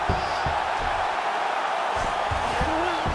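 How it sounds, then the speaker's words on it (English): Arena crowd roaring and cheering at a UFC 5 video game fight between Conor McGregor and Daniel Cormier, a steady broad wash of noise filling the whole stretch with a few low thuds and whoops. "crowd absolutely loving it"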